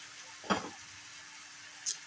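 Fajita meat cooks in a pan with a soft, steady sizzle, broken once by a short clack of a utensil and then a faint tap.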